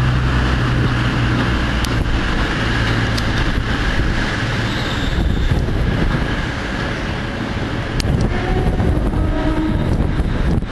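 A single Arriva train unit rumbles past at close range, a steady loud roar of wheels and engine mixed with gusty wind buffeting the microphone throughout.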